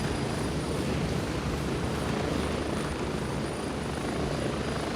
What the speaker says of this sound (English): All I've got is freaking helicopter noises in my ears.